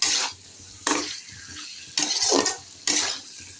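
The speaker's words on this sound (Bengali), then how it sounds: "আলুটাকে দিয়ে এখন আমি নাড়ব। এখন এর মধ্যে তেল ছেড়েছে" Potatoes frying in oil with yogurt and tomato paste are stirred in a pan, four sharp scraping, sizzling strokes at regular intervals, each fading into a soft background fry.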